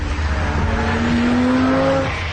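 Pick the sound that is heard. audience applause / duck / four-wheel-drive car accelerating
four-wheel-drive car accelerating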